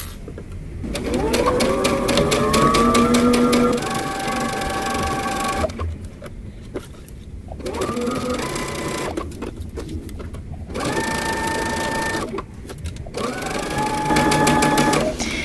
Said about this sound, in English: And I'm just going to make sure as I'm sewing that all of my edges are lined up.